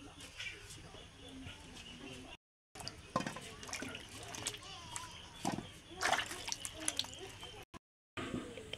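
Cut raw mango pieces are washed in clean water, with intermittent splashing, dripping and sloshing close by, punctuated by brief gaps; a voice talks over part of it.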